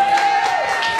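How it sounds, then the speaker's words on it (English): Applause from an audience at a jazz club show rolls on steadily and fairly loud, a dense wash of many hands clapping with a faint steady tone running underneath. "So let's give all the women a big round of applause"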